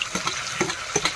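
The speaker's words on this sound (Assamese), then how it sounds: "মাংসটো আমি পুৰা ফ্ৰাই কৰি আছোঁ আলু দি পেলাই।" Pork and potato pieces stir-fried in a pan make a short burst of close sizzling, with a few spatula scrapes and clicks through it.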